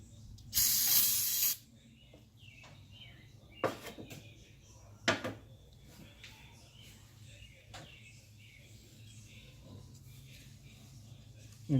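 Spray cleaner hisses into the throttle body of a 1996-2002 Toyota Camry in one loud burst lasting about a second, followed by quieter clicks and handling noises in a hushed garage.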